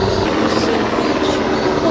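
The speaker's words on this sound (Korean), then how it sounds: "와, 이제 헬기까지." A helicopter passes over a summer valley campsite in Pocheon, an area with many military bases. Its steady, rushing rotor and engine drone holds constant and fairly loud throughout.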